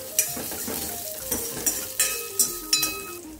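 Cashews and coconut frying in a pan for pumpkin payasam crackle gently while a spoon scrapes and clinks against the pan in a quick, uneven rhythm.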